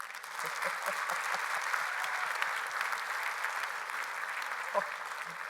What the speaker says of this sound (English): Give him a hand clap of praise if my family's beautiful.